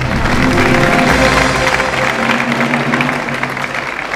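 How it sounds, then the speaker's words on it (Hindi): A studio audience at a Bhojpuri TV quiz show, Ke Bani Crorepati, gives loud, sustained applause that stays steady throughout, with a faint tonal bed underneath. "तालियां।"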